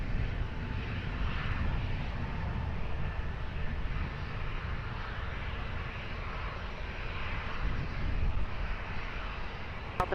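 An Air Portugal airliner takes off from Lisbon Airport, a distant, steady engine roar that rumbles on without a break, with a small click at the very end.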